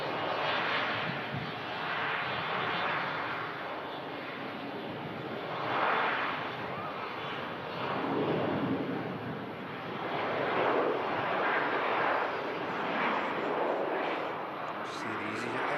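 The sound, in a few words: Air France Boeing Dreamliner jet engines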